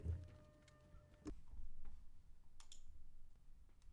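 A computer mouse click on a withdraw button in a crypto loan web page, with a few faint, sharp clicks over quiet room hum.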